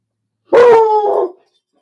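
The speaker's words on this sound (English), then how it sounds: "Sorry about the dog barking." A single dog gives one loud, close bark that trails into a short whining yelp, alone against silence.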